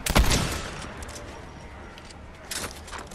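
Video game gunfire bursts out in a sharp crack and short rattling volley, then a second burst follows a couple of seconds later, with people talking under it.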